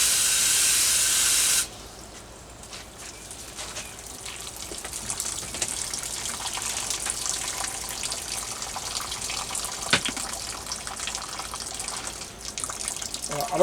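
Water pouring and splashing steadily onto soil while wetting a pot for goji berry cuttings, a continuous close hissing gush after a brief louder burst at the start, with no talk.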